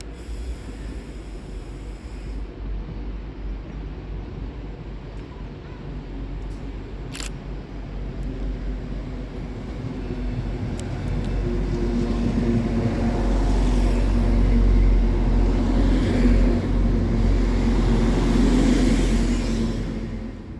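Class 390 unit 390-131 City of Liverpool, an Avanti West Coast Pendolino, departs from the far side of Crewe station. It starts as a low rumble with distant station ambience and a brief high beep, then builds into a louder whirring roar as the train gathers speed before fading slightly.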